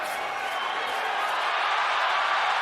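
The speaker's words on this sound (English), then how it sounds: "this crowd's going crazy" A boxing arena crowd roars steadily throughout a fight involving Oscar Valdez, a dense, loud wall of cheering and shouting with no breaks.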